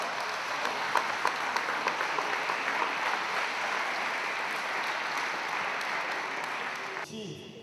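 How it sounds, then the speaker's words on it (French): Spectators at a French tennis tournament applaud a player with sustained, even clapping, moderately loud and slightly distant, that ends abruptly near the finish. "Mesdames, Messieurs, applaudissez Alexandra Braga."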